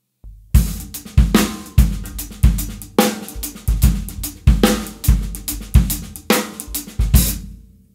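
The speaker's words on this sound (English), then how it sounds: "so you could play any type of like halftime shuffle or anything that sounds like this" A drum kit plays a linear halftime shuffle-style groove in 16th-note triplets, punchy kick and snare hits at a steady loping pulse with busy bright cymbal and hi-hat notes between them, loud and close, ringing out at the end.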